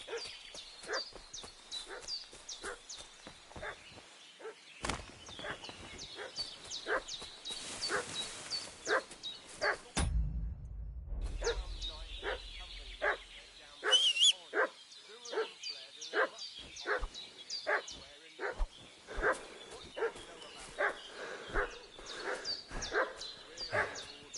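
A dog in Kingdom Come: Deliverance II barks repeatedly in quick, agitated bursts with yips and whimpers. The barking stops briefly, and a low rumble fills the gap before the barking resumes.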